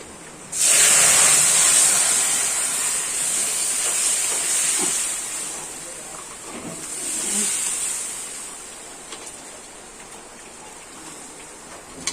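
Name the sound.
pressure cooker hissing steam while boiling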